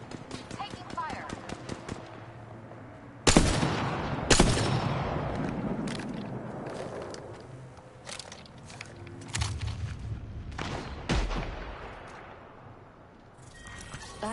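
Apex Legends gunfire in a firefight, several sharp loud shots and bursts scattered irregularly over the mix, with game voice lines speaking over parts of it.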